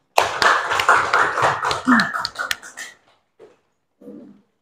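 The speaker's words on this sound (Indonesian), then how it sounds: "Tepuk tangan dulu, Nak." Children in a classroom clap their hands together, a brisk burst of close claps for about three seconds that stops abruptly, followed by faint scattered voices.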